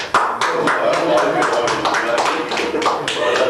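Scattered clapping and light taps at a presentation by three mine shiftbosses, a small group applauding close by while voices talk over it.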